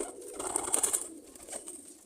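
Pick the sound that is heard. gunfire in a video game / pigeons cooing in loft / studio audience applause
pigeons cooing in loft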